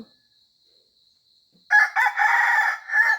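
A rooster crows once near dawn on a rubber plantation, a loud, fairly close cock-a-doodle-doo that starts after a quiet pause and runs to the end in several rising and falling swells.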